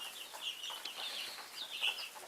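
Week-old chicks suffering from sticky butt peep continuously in high, overlapping chirps, close and fairly quiet with no talk.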